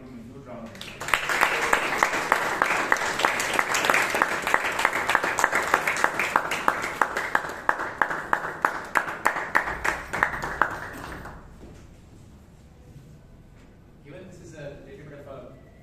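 Members of a Toastmasters club meeting clap for a speaker, a dense run of applause with sharp individual claps that lasts about ten seconds before fading, followed by quiet talking.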